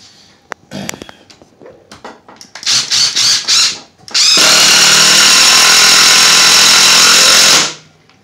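Impact driver sinking 3-inch coated deck screws: a few short ratcheting hammer bursts, then one long continuous loud impacting run of about three seconds that stops abruptly, close up with no talk.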